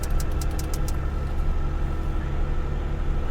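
A 2001 Chevy Lumina engine idles with a steady, close mid-range rumble after sitting unused for years, beginning with a few quick clicks or ticks.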